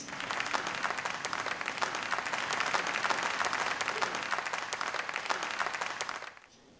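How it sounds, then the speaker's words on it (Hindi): An audience at a police awards ceremony gives a loud, dense round of applause that holds steady for several seconds, then cuts off abruptly. "मैं चाहूँगी हमारे एक्सपीरियंस जूरी मेंबर के लिए एक बार ज़ोरदार तालियां हो जाएं"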